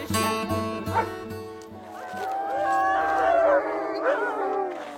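Several dogs at a dog-keeping business in Québec bark, yip and whimper in quick bursts close by, rising into drawn-out whining cries.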